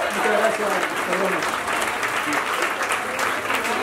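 Concert audience clapping steadily and densely throughout at a folk music performance, with a voice talking over the applause.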